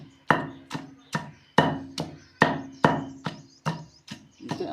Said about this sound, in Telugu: చూడండి ఎట్లా నూరుతున్నారో